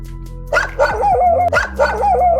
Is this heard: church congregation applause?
no